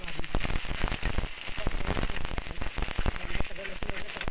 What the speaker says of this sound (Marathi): आता हे संपूर्ण मस्त भाजून घेऊ